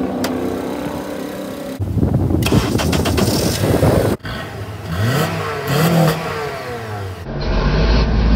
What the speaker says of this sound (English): We hit it with a cold start.